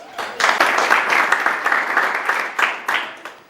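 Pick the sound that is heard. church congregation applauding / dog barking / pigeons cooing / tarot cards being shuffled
church congregation applauding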